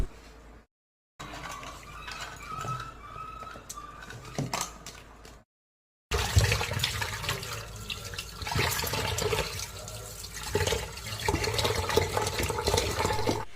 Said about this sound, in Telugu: శనలో కొంచెం పసుపు, కొంచెం ఉప్పు, కొంచెం నిమ్మరసం వేసి బాగా కలిపి కడుక్కోవాలి.